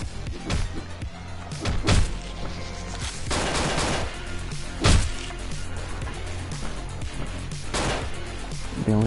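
Shotgun blasts from Hotline Miami 2 crack out in several loud, sharp bursts a few seconds apart over a driving game soundtrack.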